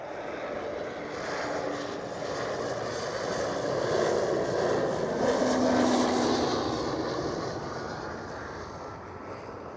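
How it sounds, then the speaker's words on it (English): An Eastern Airways Embraer E190 jet passes at an airport, a broad steady engine roar that swells slightly midway and then eases, heard alone with no talk. "Eastern Airways, E190"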